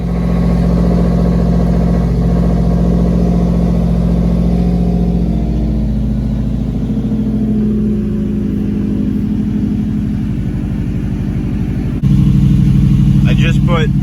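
A 2005 Subaru STI engine idles steadily as it warms up, a close, even low rumble with a constant hum that holds for the whole stretch, rising slightly in level near the end.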